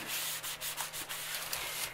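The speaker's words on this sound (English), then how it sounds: "rub it dry a little here" Hand rubbing over freshly applied binding material on an altered book, a close dry rhythmic scuffing of repeated quick strokes.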